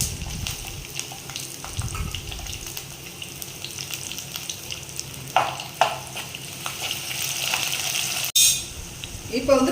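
Chopped onions fry in hot oil in a pan while a fish curry is cooked, a steady close sizzle with occasional stirring scrapes and brief louder bursts.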